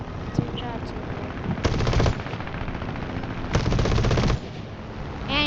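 Rapid machine gun bursts rattle in a War Thunder air battle, two strong sustained volleys over a constant engine drone, with a faint voice briefly under the noise.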